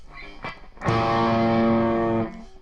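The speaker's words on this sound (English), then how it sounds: "I have a double coil here. Look at that, listen to that buzz." Electric guitar with a double-coil pickup played through a Caline CP-14 distortion pedal: a brief pick attack, then a loud sustained distorted chord ringing with buzzing overtones for over a second before cutting off.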